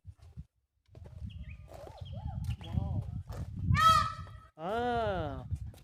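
A white peacock at a Himalayan zoological park in Gangtok, Sikkim, gives loud, nasal honking calls, two drawn-out cries near the end, while people murmur and talk nearby.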